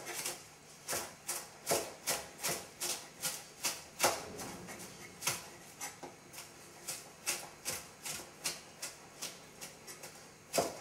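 A knife chops a bunch of parsley with its stems removed, making a quiet, fast, steady run of short tapping strokes on a cutting surface, with no voice over it.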